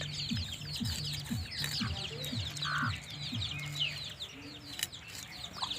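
Chickens cluck repeatedly in short bursts, with a steady low murmur of fowl and chirping birds around them, fairly close and continuous.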